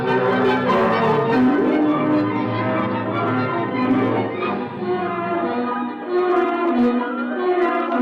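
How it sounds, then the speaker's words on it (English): NBC's three-note chimes ring out as a sustained, resonant bell-like tone that holds loud and steady for several seconds, with the notes overlapping and decaying, heard on a 1953 radio broadcast with no talk over it. "Three chimes mean good times on NBC."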